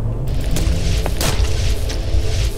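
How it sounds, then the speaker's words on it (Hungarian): Explosion of a wizard character in the game Pocket Rogues: a loud, dense low rumble with a sharp burst partway through, continuous and booming throughout, no talking. "Kis varázslónk az felrobbant."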